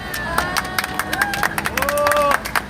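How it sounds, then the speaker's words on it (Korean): An audience claps after a pastor's speech at a church rally, with a burst of scattered applause and some cheering, while someone speaks over it. "우리 성중경 목사님 박수 한 번 더 크게 보내주십시오"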